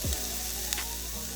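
Lox and onions sizzle in butter in a frying pan, a steady close crackling hiss with a brief clink partway through and no talking.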